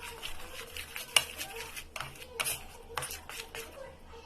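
Spoon or whisk scraping and tapping around a bowl as vanilla cake batter for paper cup cakes is mixed with milk added bit by bit, quiet repeated strokes close up with a few sharper knocks.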